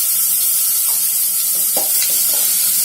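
Two chopped medium onions go into hot oil in a pan for a red pumpkin vegetable dish, giving a steady, close sizzling hiss with a few soft stirring knocks and no talking.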